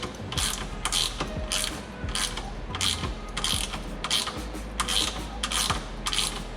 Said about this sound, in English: Kevin now is taking off those bolts.